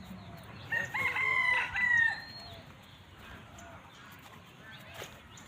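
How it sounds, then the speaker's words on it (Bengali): A rooster crows nearby, a loud harmonic call lasting over a second, followed by softer clucking and background farmyard noise, while a person talks in the scene. "মুরগ কোন দিকে আছে দেখাও তো"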